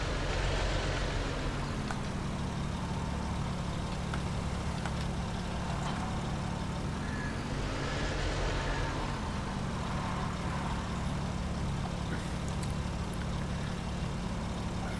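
A tractor engine in Farming Simulator 22 drones steadily at close range throughout, a low continuous rumble that swells and eases slightly as revs change, with no talking over it.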